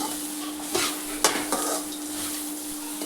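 Onions fry in a pan for Marathi-style sambar, a soft continuous sizzle broken by a few sharp spoon scrapes and clinks against the metal as they are stirred, close up with no talking.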